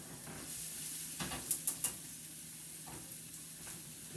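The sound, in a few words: onions sizzling while cooking in oil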